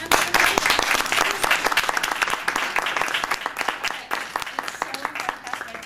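A crowd applauds at the end of a university student presentation about a border trip, giving a loud, dense round of clapping that holds steady for several seconds before easing slightly near the end.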